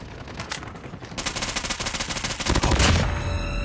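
Rapid automatic fire from an AS VAL rifle in a video game, a dense, fast stream of suppressed shots in continuous bursts, loud and close throughout.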